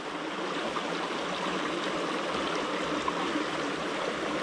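Small forest stream flowing steadily, a continuous close babble and trickle of water with no voices over it.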